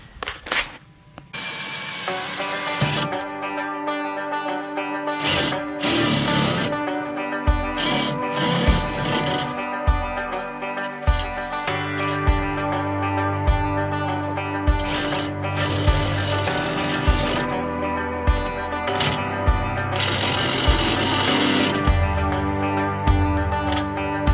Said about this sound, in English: So let's get to drilling.